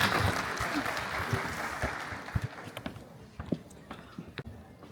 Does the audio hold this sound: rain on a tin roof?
no